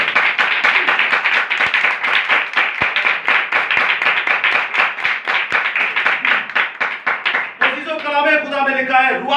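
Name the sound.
audience clapping for the word of God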